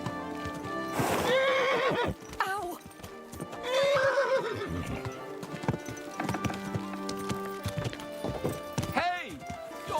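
Several loud, shrill horse neighs and whinnies ring out over a steady clip-clop of hooves, from the video game Kingdom Come: Deliverance 2.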